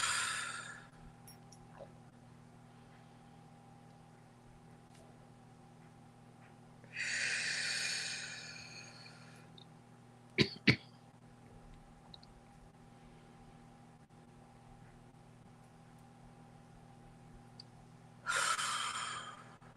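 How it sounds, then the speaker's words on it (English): Three deep breaths taken slowly during a guided meditation, each a soft, airy exhale spaced several seconds apart against a quiet hum, with a couple of brief sharp clicks in between. "let's close as we began with 3 deep breaths"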